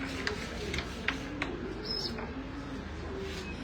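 Pigeons kept in a loft coo softly in the background, low and continuous, with a few faint chirps and light knocks breaking through.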